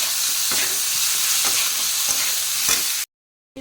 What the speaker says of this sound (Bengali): এবার ভেজে রাখা চিংড়িটা এর মধ্যে অ্যাড করে দেবো।